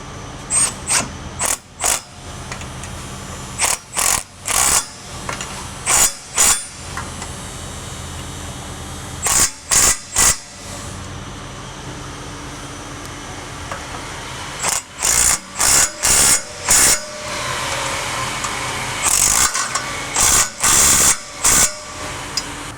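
A power tool tightens sway bar bolts on a Chevrolet Cobalt SS in short, separated rattling bursts, some in quick clusters, close and loud against a quiet background.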